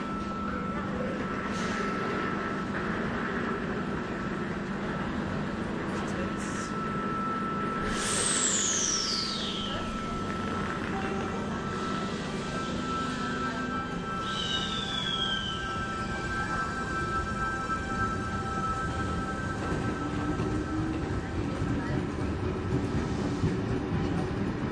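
A Sydney V set train pulls into the platform at Hornsby, a low rumbling roll with brief wheel squeals and rail noise, while a public address announcement plays over the station.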